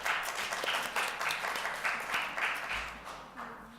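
Sustained audience applause at a sexual health conference following an official announcement, steady and full through the room, thinning out toward the end.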